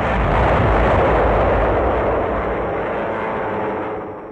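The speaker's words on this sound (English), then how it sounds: "Scene of a diving Stuka" A WWII Stuka dive bomber diving over Warsaw, recorded for a German newsreel, gives a loud, dense, roaring engine wail that fills the clip and fades slightly toward the end.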